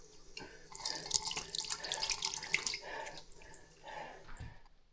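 Water runs steadily from a tap into a sink inside a high alpine bivouac shelter, a continuous close splashing stream that eases toward the end, with no talk over it.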